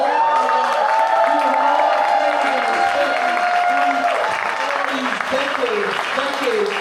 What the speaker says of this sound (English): I want y'all to give him another round of applause.